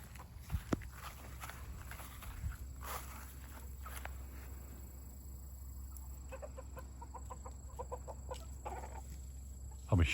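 Backyard chickens in their coop at night, including an Australorp hen, giving soft scattered clucks and low murmurs with occasional rustling and scratching movements, fairly close and quiet.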